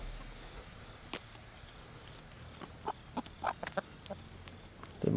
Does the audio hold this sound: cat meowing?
no